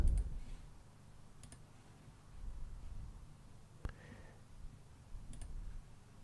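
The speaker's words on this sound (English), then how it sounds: "click on the folder icon right here" Computer mouse clicks come through as a few sparse, sharp, quiet taps over a low background hum.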